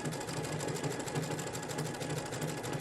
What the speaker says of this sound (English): I'll just go ahead and start sewing.